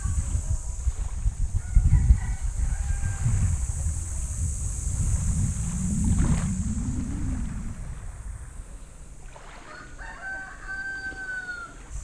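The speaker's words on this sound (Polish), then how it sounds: "Koguty, które słyszycie, są nieodłączną częścią Filipin." Roosters crow in the Philippines, a couple of drawn-out calls at moderate distance with occasional clucking, set against steady wind noise and a low engine-like rumble.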